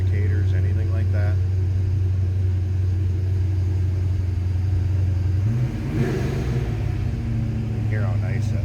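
A 1991 Ford Mustang LX convertible with a cammed engine idles with a steady low drone, then blips the throttle for a brief rev near the end, with voices talking over it.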